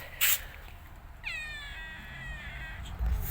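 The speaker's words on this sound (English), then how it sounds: "And this cat, what are you doing there?" Cat meowing outdoors beside a maize garden, one drawn-out, wavering meow lasting over a second, fairly close and clear, with a brief sharp knock before it and faint background noise.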